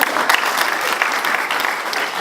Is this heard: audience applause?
yes